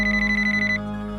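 A phone rings with an incoming call, a short electronic warbling tone pulsing rapidly for under a second over a steady hum, then cutting off.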